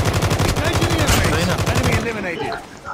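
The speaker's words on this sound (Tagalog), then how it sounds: "Baril mo yung chopper." Rapid automatic gunfire rattles out in a loud, dense burst aimed at a helicopter in a Call of Duty Mobile battle royale match, then cuts off and leaves quieter game ambience.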